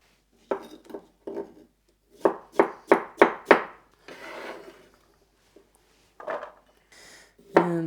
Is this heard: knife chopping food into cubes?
yes